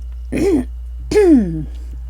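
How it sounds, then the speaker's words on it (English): A person clears their throat twice, close by: a short gruff rasp followed by a longer, deeper one, with nothing else around it. "Let me clear my throat."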